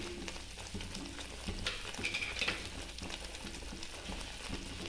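Green chicken hariyali sautéing in a pan with salt: a steady, close sizzle and crackle of frying, with scraping stir strokes and a few brighter spatters mid-way, no voices.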